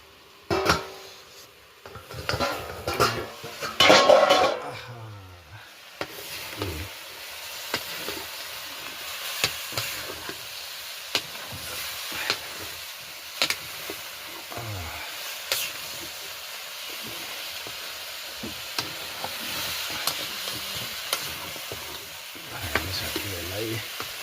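Rabbit meat from a hunt frying in a pan, a steady close sizzle with stirring and clattering scrapes, louder bursts early on and softer hissing afterward, with faint voices at moments.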